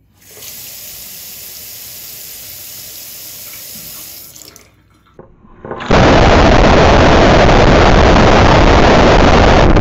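A Polaroid Wave splash-proof digital camera is plunged into water, first with a steady hiss of running water, then a short muffled gap, and finally a loud, dense underwater roar that fills the rest.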